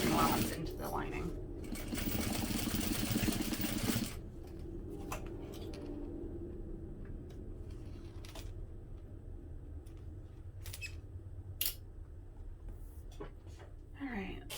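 A sewing machine bastes together the open ends of a hobo bag, a loud rapid stitching whir for the first few seconds, then quieter handling clicks and rustles with someone speaking.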